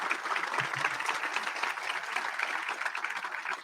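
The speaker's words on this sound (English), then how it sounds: "So let's give them a round of applause." Sustained applause from an audience greeting Georgia's Governor and First Lady Kemp at a university event, a steady dense wash of clapping at moderate level throughout with no break.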